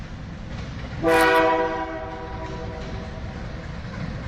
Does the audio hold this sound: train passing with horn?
yes